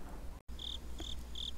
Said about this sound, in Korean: 귀뚜라미 우는 소리만 간간히 들리는 거리를